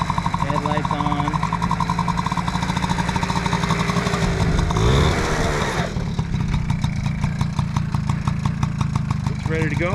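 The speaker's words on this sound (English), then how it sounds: "Once it warms up and idles on its own, they're ready to go." A small Honda Motocompo scooter engine idles steadily and close by, a continuous low buzzing putter with a brief surge of revving midway, while people talk over it.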